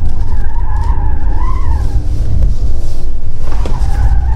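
Nissan Kicks tires skidding and squealing under hard braking and sharp steering on a track, a loud wavering screech that rises and falls over steady road and engine noise.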